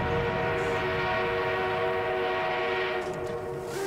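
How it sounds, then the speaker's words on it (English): A train in the video game Battlefield 1 gives a long, steady, tonal horn-like drone that stays loud and unbroken throughout, with no talking. "Why does it sound like that? The train."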